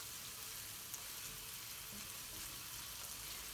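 Ginger and garlic paste frying in a pan for a British Indian restaurant-style curry, giving a steady, even sizzle with a soft crackle that holds at one level throughout, with no voices over it.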